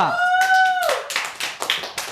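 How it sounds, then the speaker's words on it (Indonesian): A classroom group claps in a short scattered burst after a sustained whistle-like tone fades, the claps sharp and uneven with a voice audible alongside. "Tepuk tangan untuk kelompok 2."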